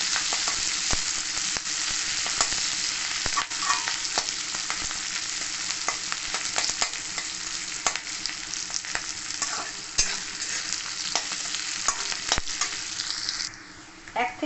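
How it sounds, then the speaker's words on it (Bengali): Chicken pieces frying in a pan over a high gas flame for restaurant-style chilli chicken: a loud, continuous sizzle with frequent sharp clacks of stirring, close and steady throughout. "এটা আমি 1 মিনিটের মধ্যে এরকম ভেজে নেবো, যেন নরম না হয় কিন্তু ভাজা ভাজা হয়ে যায়।"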